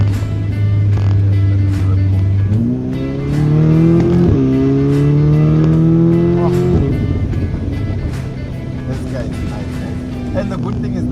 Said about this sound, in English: The moment you put it on dynamic, you can even feel the exhaust just open up.